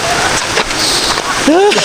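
Heavy, nonstop rain pours down at a campsite in a storm, making a loud, dense wash of noise, with people talking and calling out over it.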